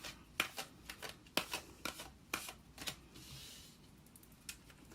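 Tarot cards from an 8th House Tarot deck being shuffled by hand: a quiet, close series of crisp riffling snaps and soft slides at irregular intervals, with no talking.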